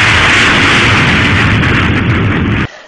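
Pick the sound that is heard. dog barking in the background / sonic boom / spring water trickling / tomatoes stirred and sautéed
sonic boom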